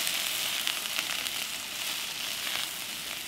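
Spicy potato pieces with ginger stir-frying in a hot pan, a loud continuous sizzle with scattered crackles and spatter bursts, close and steady without talk.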